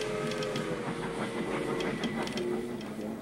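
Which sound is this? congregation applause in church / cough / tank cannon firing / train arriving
train arriving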